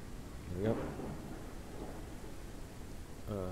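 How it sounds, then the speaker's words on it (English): A thunderstorm rumbles in the video game Ranch Simulator, with steady rain hiss and low thunder rolling underneath, while a voice comes in briefly. "Oh man, this place is a dump for storms."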